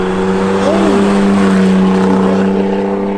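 An Isuzu VehiCROSS sweeps past in a flyby, its steady engine note loud and close with a rising-then-falling pitch bend as it passes, humming on throughout.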